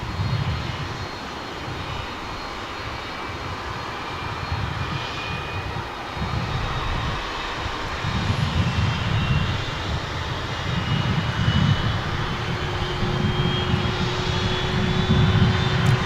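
An American Eagle Embraer 175 regional jet passes at DFW International Airport, a loud steady engine roar with rising whine that builds and holds for the whole stretch, heard from a spotting position outdoors with no talking.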